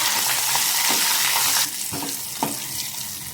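Curry leaves, dried red chillies and turmeric crackle in hot oil for a tempering, a steady close sizzle that drops back after a moment, with a few stirring clicks of a spoon against the pan.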